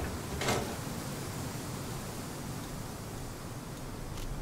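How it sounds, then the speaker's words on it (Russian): A steady, hollow rush of wind blows through a large hospital building in the SCUM game, a constant broadband whoosh with a brief soft knock near the start and no voices. "Ветер поднялся."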